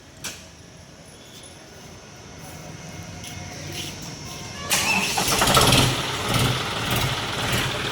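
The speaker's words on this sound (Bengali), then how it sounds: "তো গাড়িটা একবার স্টার্ট করো, সাউন্ডটাও একবার চেক করিয়ে নি" A John Deere 5050D tractor engine cranks and catches, its rumble building after a few seconds into a louder, broadband idle that stays steady and close to the end.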